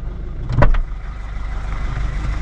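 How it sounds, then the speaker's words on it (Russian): A car engine hums steadily while driving along a village road, with a brief louder swell early on before settling back into a low, even drone. "Еду на машинке я"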